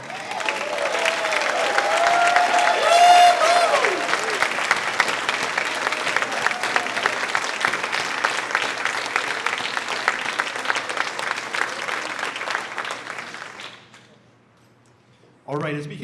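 A breakfast audience at an alumni recognition event applauds and cheers loudly and steadily for about thirteen seconds, with whoops early on, before the clapping dies away and a voice begins speaking.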